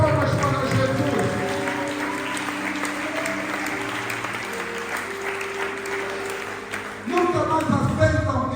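A church congregation applauds in a sustained, dense round of clapping, with voices and music-like tones mixed in and a louder surge near the end.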